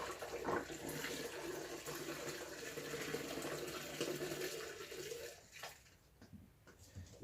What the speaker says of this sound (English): Listening to all this running water.